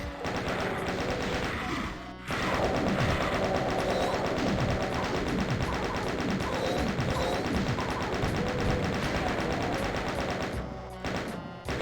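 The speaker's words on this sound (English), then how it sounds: "I'm shooting slowly to try and use up as little ammo as possible." Video game gunfire keeps up a loud, dense stream of shots over game music, with brief quieter gaps at the start and end.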